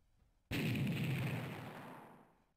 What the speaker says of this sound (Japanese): 翌日は爆弾が爆発する夢で目が覚めた。